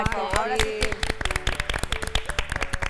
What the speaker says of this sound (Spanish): Ella es Norma Sumaya, para que la recibamos con un aplauso